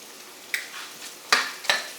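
Wild white onions going into a hot pan for fried rice, giving three short bursts of sizzling and stirring over a quiet background.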